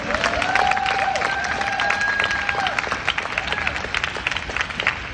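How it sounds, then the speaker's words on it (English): Warm, continuous applause from an audience at a MoMA members' poetry reading, broad and steady, with a few voices calling out over the clapping. "One more round of applause for Kimon."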